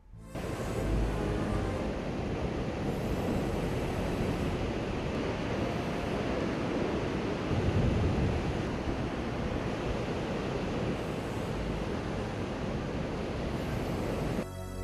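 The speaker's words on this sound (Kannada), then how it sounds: "ಸಮುದ್ರದಲ್ಲಿ ಭಾರಿ ಪ್ರಮಾಣದ ಅಲೆಗಳು ಉಂಟಾಗಿದ್ರಿಂದ" Heavy waves and strong wind on a rough Arabian Sea pour out as a steady, loud, broadband roar, unbroken for the whole stretch with no voices over it.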